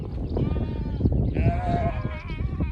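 Sheep bleating in a flock, several wavering harmonic bleats overlapping at moderate distance, with rustling and farmyard noise beneath; no speech.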